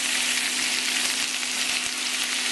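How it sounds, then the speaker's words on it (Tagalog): Shell-on, head-on shrimp sautéing in a hot pan, a loud dense continuous sizzle heard up close and alone. "Igigisa muna natin dito yung hipon pansamantala hanggang sa magkulay-kulay lang ito"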